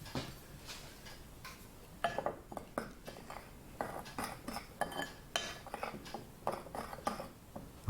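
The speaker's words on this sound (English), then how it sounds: "And then we just need to give this a jolly good stir." A spoon clinks and scrapes around a bowl as salt is stirred into butter for gluten-free digestive biscuits, a series of light, irregular taps close by and alone.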